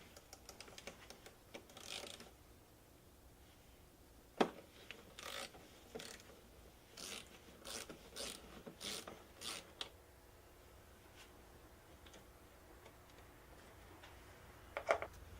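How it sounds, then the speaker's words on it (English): A ratchet loosens a 12 mm bolt on the power terminal of a Mitsubishi i-MiEV main traction battery. It makes soft, fairly faint clusters of clicking strokes in bursts, with quiet pauses between them. "we're going to remove that 12 millimeter bolt that holds on the power terminal"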